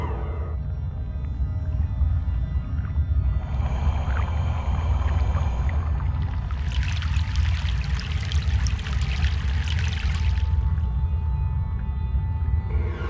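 Boat travelling across a river in the video game Broken Sword: The Sleeping Dragon, a continuous low churning rumble with water noise, building into a brighter rushing splash midway before easing off; no voices.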